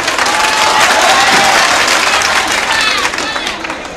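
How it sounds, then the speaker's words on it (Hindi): Sustained audience applause at a mushaira, dense crowd clapping at full volume that holds steady for four seconds, easing only slightly near the end, with no voices rising above it. "तालियां बजाकर मुझे इजाजत दे पढ़ने की"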